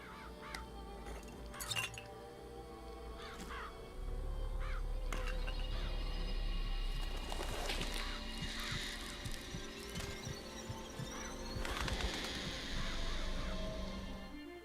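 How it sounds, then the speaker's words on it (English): Murderous crows summoned in Bioshock Infinite, a burst of harsh cawing and flapping over steady game ambience, with a louder stretch in the middle and scattered sharp calls throughout. "Press to summon murderous crows."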